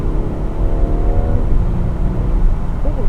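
A 2018 Audi A5 Coupe accelerating in sport mode with paddle shifters, a loud, steady engine roar heard from inside the car, rising in pitch as it pulls hard.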